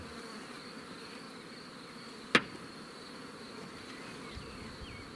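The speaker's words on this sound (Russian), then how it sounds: "Ой, там пчелы битком." Honey bees buzzing around crowded beehives at an apiary in Moldova, a steady faint swarm hum with one sharp knock partway through.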